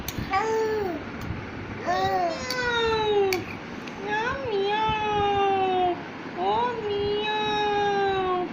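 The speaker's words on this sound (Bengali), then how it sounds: "এই যে মিয়াও আসছে" A pet cat meows about five or six times in clear, rising-and-falling calls spaced a second or so apart, close to the listener over a quiet indoor background.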